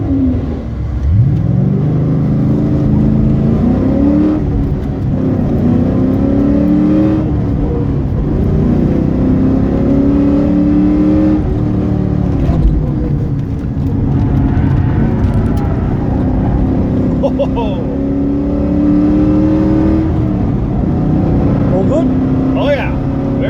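A car racing hard around Wakefield Park on a track day, its engine loud and close throughout, revving up and down through repeated rising and falling sweeps as it accelerates and shifts, with a voice speaking over it.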